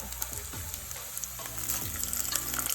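Garlic and onion frying in a pan, a steady close sizzle with a few light clicks of stirring over about three seconds, no voices.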